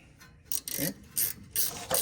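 A ratchet wrench loosening 14 mm rear brake bolts on a Nissan Altima, four short bursts of rapid ratcheting clicks close by, separated by brief pauses.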